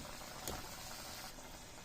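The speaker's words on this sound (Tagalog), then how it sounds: "Kumukulo na" Soft, continuous bubbling of papaya soup boiling in a pot, faint and steady with no voices.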